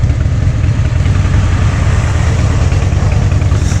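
A group of motorcycles riding into Hobart, Tasmania, gives a loud, close, continuous low engine rumble with a throbbing texture, steady for the whole stretch.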